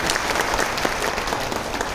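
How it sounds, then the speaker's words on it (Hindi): Applause from an audience at a spiritual gathering on inner peace, a dense steady patter of clapping filling the whole stretch, fairly close and even in level. "सभी एक बार जोरदार तालियां बजाएंगे"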